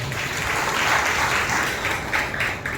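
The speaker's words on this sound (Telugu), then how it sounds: "బిగ్గరగా చప్పట్లు పడి ప్రభువును భయపరచాలి." A church congregation at a Sunday service claps loudly and steadily, a dense continuous wash of applause that fills the whole stretch without pause.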